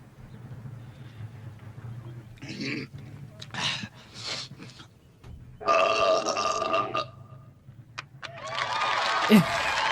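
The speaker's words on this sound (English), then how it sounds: "The belching contest." Several long, rumbling belches come one after another with short pauses between, and a roaring crowd swells in the background.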